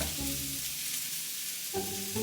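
Garlic fries in a hot pan with a steady, close hiss of sizzling oil, while a faint low hum runs underneath.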